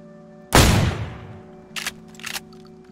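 A single loud gunshot is fired from a balcony in the DayZ Standalone video game, cracking sharply and ringing off, followed by two shorter, quieter bursts of shots a second later.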